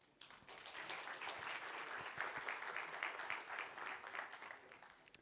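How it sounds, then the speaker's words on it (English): An audience at a tech conference talk claps in a sustained wash of applause, fairly distant and even, swelling slightly before fading at the end. "please give a round of applause to Klavs."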